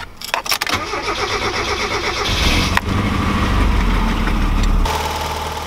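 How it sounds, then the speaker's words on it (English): Car engine cranking and catching after a fuel injector upgrade on a Megasquirt-tuned setup, the starter whirring briefly before the engine fires and settles into a loud, steady idle. "go ahead and start it up"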